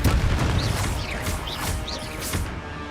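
A Confringo fire spell exploding in Hogwarts Legacy, a loud booming crash with scattered whooshing, chirping magical effects over a heavy rumbling tail.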